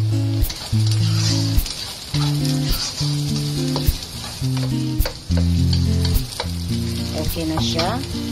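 Shallots frying in a pan for a Chinese pork trotter dish: a strong, bright sizzle of oil with repeated sharp utensil knocks and stirring, loud and close, with no speech.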